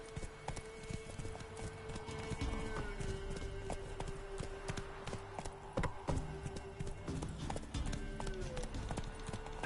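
Hooves of the horse Roach clip-clop at a gallop in The Witcher 3, a rapid rhythmic beat close by, with brief voices and a steady tone running underneath.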